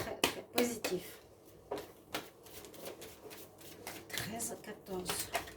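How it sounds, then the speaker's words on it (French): Tarot playing cards being shuffled and drawn, with repeated quick riffling and snapping bursts close up, some soft handling noises between them. "Je vais prendre des cartes pour le sentimental"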